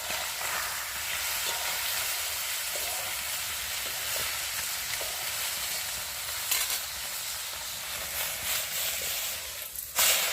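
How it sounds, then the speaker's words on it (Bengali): A large fish frying over a wood fire, with a continuous loud sizzle and crackle that holds steady, plus occasional scrapes as it is turned near the end. "আর আমার মাছকে কাঠে রান্না করছে"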